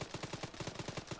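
Rapid gunfire in a combat sequence from the ARMA 3 video game, heard as a tight rhythmic string of about a dozen loud, punchy bursts spread evenly over a little more than a second.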